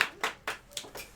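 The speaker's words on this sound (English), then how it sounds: "can we just give Bryce a round of applause for questions?" A few hands clapping in a short, sparse round of applause: five quick, separate claps in an even rhythm, close and moderately loud.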